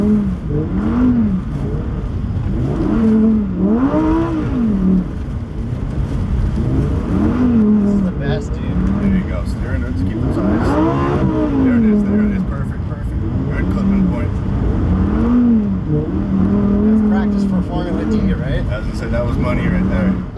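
A 2023 Lamborghini Huracan Tecnica on studded tires drifts around an ice track in Quebec, its engine rising and falling in repeated revving swells, loud and close throughout.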